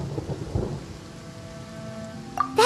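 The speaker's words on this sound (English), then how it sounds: "Paimon hears thunder!" Rain pours steadily in Genshin Impact with a low thunder rumble underneath, then a sharp bright crack bursts in at the very end; no one speaks.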